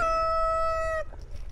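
A rooster at a chicken coop on an off-grid property crows one long, clear, tonal call for about a second, then gives way to quiet low background rumble.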